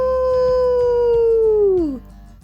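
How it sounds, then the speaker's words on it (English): A long wolf howl from a children's monster-hunt story, one loud sustained tone that holds steady and then slides downward as it fades. "Next came Wolf, howling loudly."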